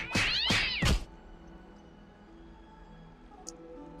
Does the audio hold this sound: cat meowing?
yes